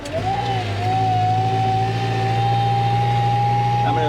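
Loaded truck engine pulling hard in second gear, a steady low droning rumble with a sustained whining tone, someone talking over it.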